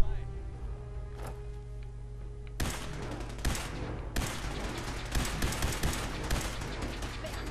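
Gunfire in the video game Fallout 4, bursts of rapid shots breaking out after a quieter stretch, then dense, repeated loud blasts continuing to the end; a player's voice talks underneath.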